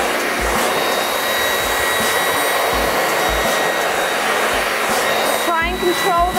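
A hair dryer blow-drying long hair with a brush, a loud, steady whirring roar close by throughout, with a thin tonal whine riding on the airflow and brief shifts as the dryer is moved.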